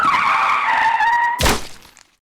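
A car in a visual novel scene speeds in with a loud sustained tire screech, then cuts off in a sharp crash impact that rings out briefly and fades to silence.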